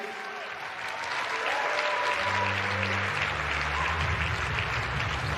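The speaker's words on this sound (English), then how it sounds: "Round of applause." Tennis crowd applauding after a late-night match between C. Gauff and D. Kasatkina, a steady dense wash of clapping that swells after the first second and holds loud, with a low hum beneath.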